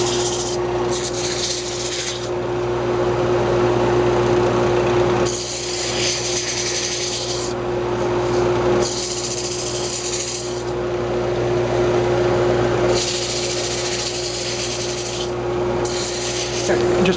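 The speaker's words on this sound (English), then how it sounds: "I'm just going to go ahead and sand this up." Sandpaper working a turned wooden lamp on a spinning lathe, a steady motor hum under repeated rasping passes that rise and fall in bursts of a few seconds each, close and loud, with no talk.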